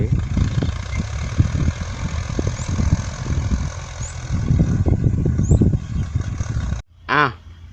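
A farm tractor idles in a rice field, a steady low engine rumble running under nearby talk for most of the stretch before cutting off near the end.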